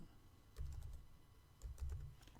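A computer keyboard clacks in two short quick bursts of keystrokes, close and quiet, with a brief pause between them.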